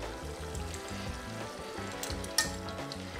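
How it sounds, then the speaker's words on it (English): Vanilla extract whisked into a pan of vegan caramel, a continuous close bubbling, sizzling churn with a faint stirring scrape and a brief sharper clink partway through. "So I'm gonna whisk in that tablespoon of vanilla extract."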